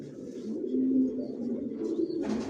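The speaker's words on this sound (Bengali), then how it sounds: "আমার লফটে সব জনসন লাইনের কবুতর পালি।" Johnson line racing pigeons coo softly and continuously inside a loft, a low rolling murmur of several birds, close and quiet with no other sound.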